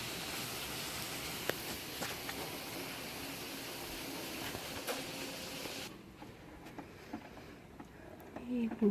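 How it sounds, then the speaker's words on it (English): Steady rain falling outside, a faint continuous hiss that drops noticeably quieter partway through, with a few light knocks near the end. "it's raining pretty good outside"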